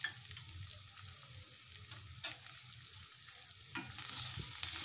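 Chopped onions with ginger garlic paste fry in a pan, a soft steady sizzle under scraping stirs from a utensil, quiet and close, with no talking.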